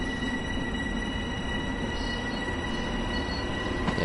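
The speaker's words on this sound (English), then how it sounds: "when I first started this train it did sound like a class 47" A simulated train in Train Sim World 2 rolls along the track with a continuous low rumble of wheels and engine, plus faint tonal whines. It stays fairly quiet and even throughout, with no talk.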